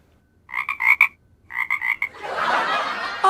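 A man mimics a frog with his voice, giving two quick bursts of three or four nasal croaks each, close and loud, then a breathy rushing noise.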